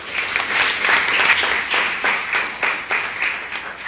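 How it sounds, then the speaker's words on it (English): A round of applause for the Weequahic High School football team at an Essex County Freeholders ceremony: moderate clapping from a modest group in uneven pulsing bursts, fairly close, with no talk over it. "So give yourselves a round of applause."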